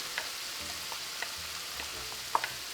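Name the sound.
yellow and red peppers sauteing in a pan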